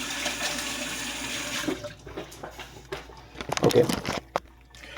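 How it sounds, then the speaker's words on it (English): A hand being rinsed under a running kitchen tap, a steady close hiss of water for a couple of seconds, then splashes and handling clatter as the flow shuts off, with a brief spoken word. "I should just rinse my hand real quick."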